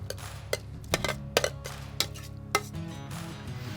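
Spoon scrapes and clinks against a baking dish while chopped leftover turkey is stirred into a thick sauce for pot pie, with a series of distinct taps at a steady pace, close by.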